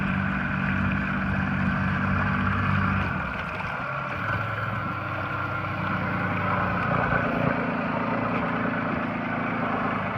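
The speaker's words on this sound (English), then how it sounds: "we'll fire this engine up, put it in gear" An outboard boat motor starts and is put in gear in weedy water, running as a loud, steady engine drone close by, with a shift in tone partway through as the propeller engages, no voices.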